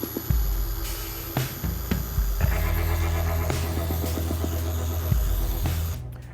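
A car polishing machine running at its highest speed setting on new paint, a steady motor hum with shifting whine and a few knocks and bumps, stopping near the end.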